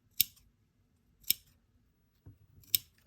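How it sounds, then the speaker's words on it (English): Scissors snip fabric along an inside curve of a bias-bound seam, three crisp close clips spaced about a second apart with a softer fourth cut between them, no talking. "So I'm going to take my scissors"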